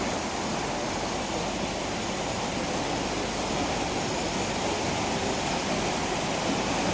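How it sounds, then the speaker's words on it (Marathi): Water rushing down from the hills, heard as a steady, dense roar that stays loud and unbroken throughout, with no voices. "डोंगर बघा, तिकडून सगळं पाणी यायला लागलं."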